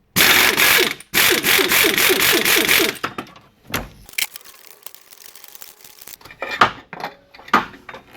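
A ratchet removes a 14 millimeter bolt on a 2006-2012 Honda Ridgeline during a timing belt and water pump job: rapid, loud clicking bursts for about three seconds, followed by quieter scattered metallic clinks and handling.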